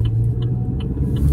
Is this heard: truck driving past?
yes